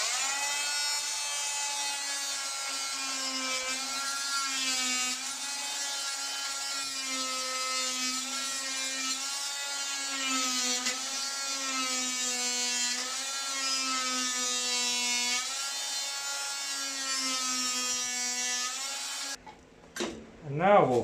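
A power carving tool shapes wood with a sustained high whine that wavers in pitch as it cuts, running steadily for about nineteen seconds before cutting off with a few brief knocks.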